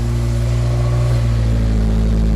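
A car with a replaced aftermarket exhaust revs steadily, a loud, close, continuous engine drone with a strong low rumble and no voices.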